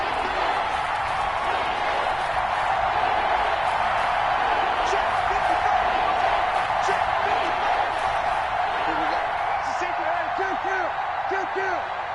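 Stadium crowd noise from an American football video game on PS4, a steady, dense roar of cheering that builds ahead of a big third down and holds throughout with no pauses.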